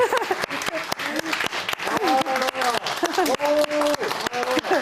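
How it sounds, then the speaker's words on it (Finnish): A church congregation claps at an evening worship service, with dense, rhythmic applause and a voice speaking over it throughout, close and fairly loud. "oikein kunnon taputus"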